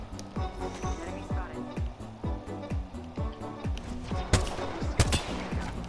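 Rapid bursts of gunfire ring out in Apex Legends Season 9, a rhythmic run of repeated shots followed by two louder sharp blasts near the end, with speech faintly present underneath.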